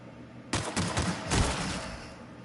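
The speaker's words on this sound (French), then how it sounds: "Il y a un ennemi qui tire dessus" Enemy gunfire in The Outer Worlds, a rapid cluster of loud, close shots in two quick bursts lasting about a second before fading into a reverberant tail.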